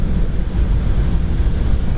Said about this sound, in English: I'll roll this window up so you can hear what we got for wind noise.